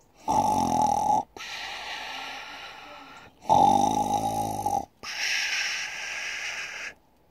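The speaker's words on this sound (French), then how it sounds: "un chasseur passant par là entendit d'énormes ronflements" Loud, drawn-out snoring comes in four long breaths, alternating deep rattling inhales with rougher exhales, close and alone with no other sounds.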